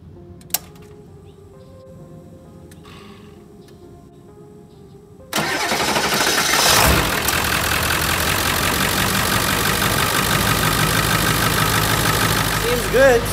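Ford 7.3 Powerstroke diesel engine, remote started after a quiet stretch with a click, then cranks and catches into a loud, steady, rough diesel idle that runs continuously to the end.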